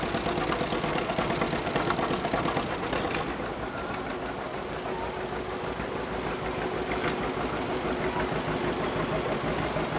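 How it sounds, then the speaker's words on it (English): A 1955 John Deere 60 tractor engine idles steadily in a festival parade, a continuous close, loud chugging rumble throughout with no talk. "1955 John Deere 60 driven by James New."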